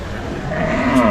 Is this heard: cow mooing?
yes